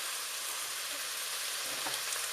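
Pureed fresh tomatoes hitting minced meat in a hot pan set off a loud, steady hiss of frying and sizzling, close up with no talk.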